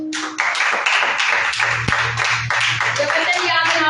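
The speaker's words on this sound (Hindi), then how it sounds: "सुनीता जी अपने लिए जोरदार तालियां बजाओ।" A congregation at a Sunday worship service claps loudly for Sunita, a dense, steady burst of many hands close by, with a voice briefly heard over it.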